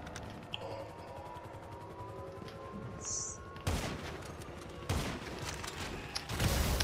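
Gunfire in a video game: a continuous low rattle of distant shooting, then three sharper, louder bursts of shots close by, all without talk.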